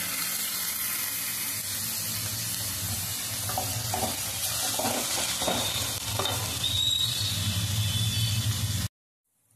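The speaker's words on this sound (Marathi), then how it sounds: "हा आपला चांगला फ्राय झालेला आहे कांदा टोमॅटो" Chopped onion and tomato sizzle and fry in a pan with occasional stirring scrapes, a steady close hiss that continues evenly before cutting off abruptly at the end.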